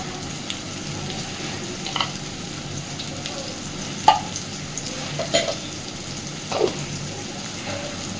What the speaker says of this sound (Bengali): দিচ্ছি হলুদ গুঁড়ো দিচ্ছি লঙ্কা গুঁড়ো